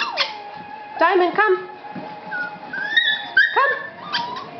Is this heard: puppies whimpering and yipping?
yes